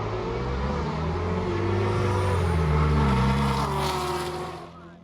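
Monster green Camaro SS drag racing down the eighth mile, its engine roaring loud and rising through gear changes as it accelerates away, then fading near the end.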